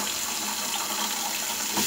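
Water running steadily from a bathroom sink faucet after a clogged drain repair, a loud continuous hiss and splash close by with no talking.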